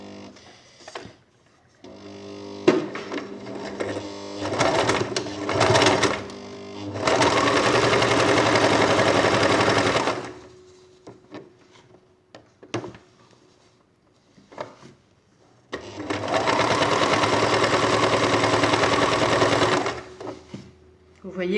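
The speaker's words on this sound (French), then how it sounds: "il n'y a plus qu'à piquer le long du bâti" A sewing machine stitches a basted dress sleeve in two long, steady whirring runs of rapid stitching, with someone speaking French between them alongside clicks and fabric handling.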